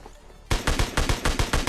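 Rapid gunfire from the battle-royale game PUBG Lite, a close, loud burst of about eight evenly spaced shots following a short quiet lead-in.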